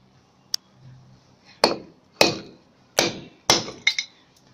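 A hammer taps a plant pot to break it during repotting of a fire stick plant, giving five or six sharp, close knocks spaced irregularly, the last two close together, with quiet pauses between.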